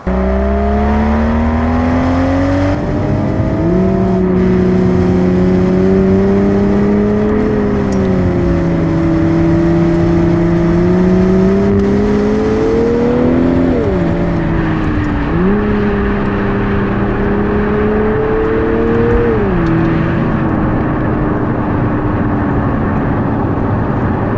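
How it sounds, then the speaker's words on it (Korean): A Toyota Supra at night runs alongside a Hyundai Avante N, its engine droning loud and close, rising and falling through gear shifts with a steady whir beneath. "이 수프라의 성능을 알아보기 위해서 아반떼 N과 함께 달리면서 촬영을 해보도록 하겠습니다"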